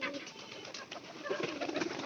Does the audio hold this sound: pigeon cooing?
yes